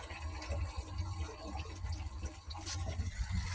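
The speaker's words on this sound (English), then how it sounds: "while we're here at this campsite, we're gonna fill up our water" Water runs steadily into a camper's tank at a campsite, a soft continuous gurgling fill with low rumble, fairly faint and uninterrupted.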